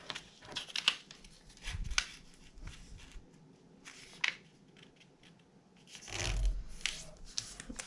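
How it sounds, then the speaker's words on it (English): Paper is folded into an origami crown, with irregular close crinkling, rustling and creasing that swells into a louder rubbing burst near the end. "Now we're going to fold all the points into the middle."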